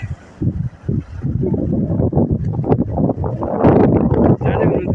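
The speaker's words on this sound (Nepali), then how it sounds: "आज अलि हावा बढी छ क्या" Gusty, cold wind by the sea in Japan roars across the microphone in low, uneven bursts, with a muffled voice faintly underneath.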